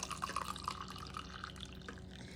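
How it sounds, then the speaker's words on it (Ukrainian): Hot tea pours into a cup in a faint, steady trickle with small drips and splashes. "наливаємо гарячого ароматного чаю"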